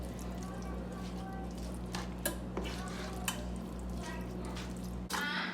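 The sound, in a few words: mixing casserole ingredients with black pepper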